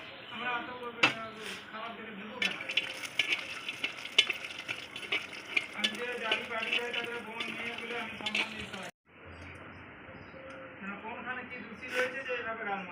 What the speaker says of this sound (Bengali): এবারে বড়িটা ভেজে নেব